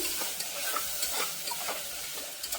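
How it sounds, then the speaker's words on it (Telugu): Masala paste fries in a pan with a continuous dense sizzle and soft stirring scrapes, steady and close with no voices. "ఈ పేస్ట్ని వేసుకుని ఫ్రై చేసుకోవాలి మసాలా వేసుకున్నాక బాగా ఫ్రై చేసుకోవాలి"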